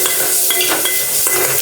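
Crushed garlic, onion and curry leaves sizzle in a hot pan while being stirred, a continuous close frying hiss with a few soft scraping strokes, no voices.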